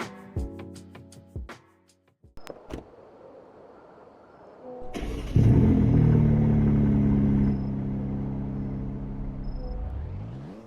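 A BMW car engine in the Greenville video game starts after a few clicks and knocks, then settles into a loud steady low rumble that eases slightly near the end.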